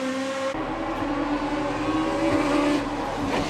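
Peugeot 306 Maxi Evo front-wheel-drive hillclimb car driving hard, a steady loud engine note holding high revs throughout, heard from a distance with no talking.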